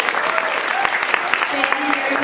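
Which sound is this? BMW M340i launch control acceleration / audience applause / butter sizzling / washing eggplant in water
audience applause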